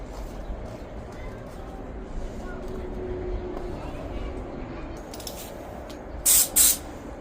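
Metal Schrader valve on a bicycle tire tube being inflated, with two short, loud bursts of hissing air near the end, following a stretch of low background noise and a voice speaking.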